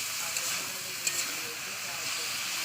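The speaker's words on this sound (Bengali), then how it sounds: "তেলের মধ্যে আমি আবার বিট গাঢ় একসঙ্গে পুরোটাই দু থেকে তিন মিনিট আমি ভালো করে ফ্রাই করে নিলাম" Beetroot and potato fry in hot oil in a home kitchen, giving a steady close hiss and sizzle with a few faint clicks of stirring.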